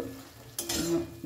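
Fried puti fish being stirred into oily spice masala in a pan, a short scrape and clatter of a spatula followed by a soft sizzle, close and alone without talk.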